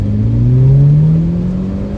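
A turbocharged Audi A4 engine revs up hard under throttle, a loud, steady drone that climbs in pitch and holds close, with no talk over it.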